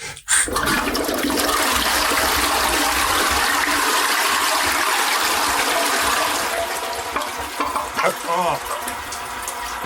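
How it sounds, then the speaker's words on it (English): A toilet flushes with a sudden loud rush of water that roars steadily and then tapers into gurgling refill, heard up close. "I'm just going to try and flush this now."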